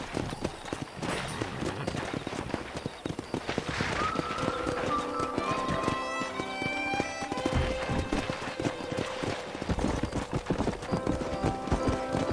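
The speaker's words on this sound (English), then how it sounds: "That ranch hand said there's a pack of wild horses nearby." Horse hooves clip-clop in the Western video game Red Dead Redemption, a steady near rhythm over game music and ambience, with brief tonal whistles and a lively busy backdrop throughout.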